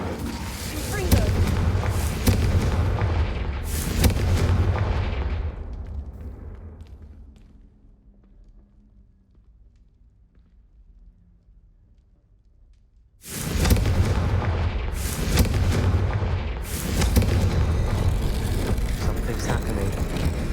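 Confringo fire spells blasting in the Hogwarts Legacy video game: loud booming bursts with crackling tails, a dense volley, then a quiet lull before a second loud cluster of explosive impacts.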